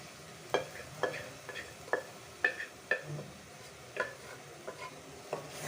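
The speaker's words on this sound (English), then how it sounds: "And we'll give it a nice stir so it takes on the masalas really well." Kidney beans are stirred into a masala in a pan, a run of soft, evenly spaced scrapes and wet clicks over a faint sizzle, close and fairly quiet.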